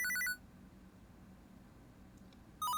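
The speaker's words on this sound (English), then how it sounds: "a sudden his phone rings." A phone rings with an electronic ringtone. A short burst of it sounds, a stretch of quiet room noise follows, and the ring starts again at the end.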